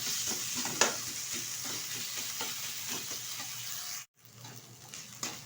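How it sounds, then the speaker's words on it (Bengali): Chicken momo filling fries over high heat, a steady close sizzle broken by regular scraping stirs and occasional clinks, with a brief drop out near the end; no talking. "এবার হাই আছে প্রায় 4 থেকে 5 মিনিট মতো নেড়ে চেড়ে নিলেই কিন্তু হয়ে যাবে আজকে চিকেন মোমোর ভিতরে যে পুর সেটা"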